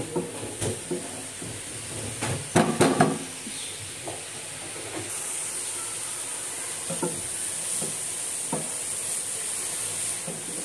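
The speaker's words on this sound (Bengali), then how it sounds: "দশ মিনিটের মতো হয়ে গেল প্রায় ভাজতেছি, তো আরও কিছু সময় ভাজা লাগবে।" Grated carrots fry in a pan with a steady, close sizzle and hiss, broken early on by a cluster of scraping, clinking stirs against the pan before the frying settles into a constant even crackle.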